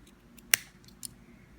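Scissors snip cotton wick for a vape coil on an Apache RTA, giving one sharp close cut followed by a softer second snip against quiet background.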